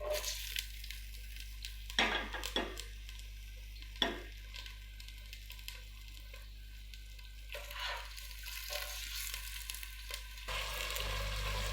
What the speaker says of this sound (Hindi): ये देखें प्याज हमारे फ्राई हो रहे हैं